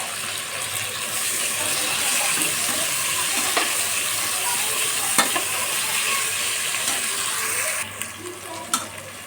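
Cut potatoes fry for khichdi in a pan with a constant close sizzle, broken by occasional scraping knocks of stirring and a couple of sharper clicks toward the end.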